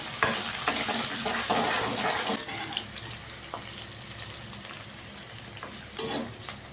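Onions fry and are stirred in a pan for tomato rice, giving a loud, steady sizzle with scraping spoon strokes, close up and with no voices.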